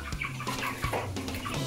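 Chickens on a farm cluck in short repeated bursts, several close calls overlapping at an irregular rhythm with no talking.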